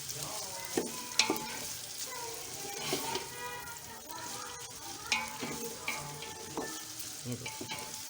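A kilo of chopped onions for Delhi-style nalli nihari sizzles and fries in a pot while being stirred, with steady crackling and intermittent scraping clatter close by, and faint speech in the background.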